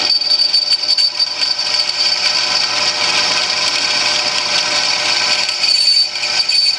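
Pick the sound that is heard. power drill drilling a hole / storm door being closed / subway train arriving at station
power drill drilling a hole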